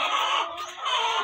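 Young layer hens on a small farm, about 17 weeks old and not yet laying, cluck steadily and fairly loudly nearby in overlapping, continuous calls.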